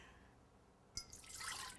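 A liquid is poured into a stand mixer bowl while making a marshmallow cake topper: a soft click, then a short, faint splash and pour trailing off.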